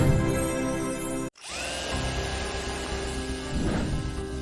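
Power drilling from renovation work in a neighbouring apartment, a steady loud whine that cuts out briefly, then restarts and runs on continuously with a rising pitch sweep.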